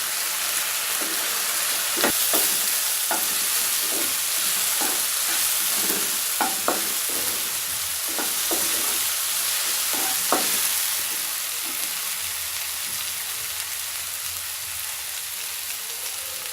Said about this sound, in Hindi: अब हम इसे सब्जियों के साथ अच्छे से मिक्स कर लेंगे